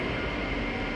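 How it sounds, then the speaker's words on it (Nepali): A Doha metro train pulling into a station at night, a broad, loud rushing roar with a steady rumble and no voices. "यहाँबाट स्ट्यान्डर्ड मेट्रो आइरहेछ होइन।"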